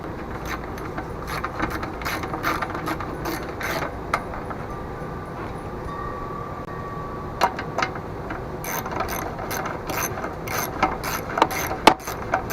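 A ratchet wrench works bolts on the diaphragm carburetor of a Murray engine, giving repeated close, crisp clicking strokes in uneven bursts with occasional metallic clinks and no talk.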